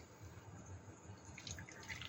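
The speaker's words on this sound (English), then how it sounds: "Put the chicken inside first and pour the broth on the chicken." Chicken broth poured over chicken in a normal soup bowl, a soft steady liquid trickle with faint splashes and drips, close and quiet throughout.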